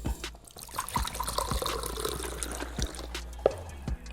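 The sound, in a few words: coconut water being poured out of a coconut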